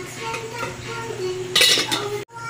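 Metal pot lid set back onto a pot of jackfruit jam cooking on the stove, a single bright clattering clink near the end over a low kitchen hum, with no talk.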